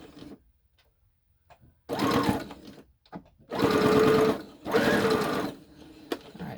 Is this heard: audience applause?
no